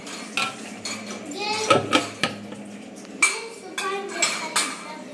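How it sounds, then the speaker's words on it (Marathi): Steel bowls and pots are pulled down and shifted around by a small child in a home kitchen, giving a series of sharp metallic clanks and rattles, close and irregular, with some talk in between. "वरण भाताचा कुकर लावीपर्यंत आमच्या मॅडमनी सगळे भांडे खाली घेतले"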